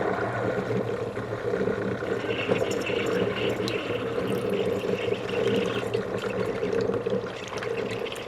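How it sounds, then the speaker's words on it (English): Hamilton Beach FlexBrew Trio 2-way coffee maker heating water toward a boil, a steady bubbling, hissing churn that runs evenly and close throughout with no talk. "it's making sounds because it is starting to get that water boiling"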